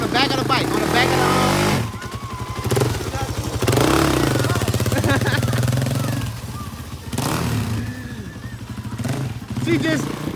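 A new ATV engine revs hard as the clutch is popped. It rises and falls in throaty bursts with a mechanical clatter, close to the microphone, while voices talk over it.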